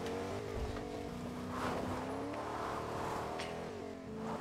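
A car on chunky off-road Chonkers tires climbs a mountain in Fortnite, its engine droning and rising in pitch as it revs, with scrapes and thumps of the wheels over rough ground and no talk.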